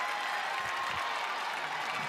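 Basketball arena crowd at Williams Arena during a UCLA at Minnesota game, applauding in a dense, steady wash of clapping that fills the whole space, heard at a distance under faint voices.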